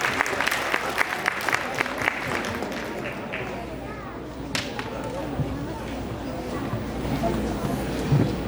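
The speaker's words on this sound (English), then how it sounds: "Give them a big round of applause." Audience applause for a group of introduced people: sharp claps stand out at the start, then thin into a steady murmur of crowd noise and chatter across the whole stretch.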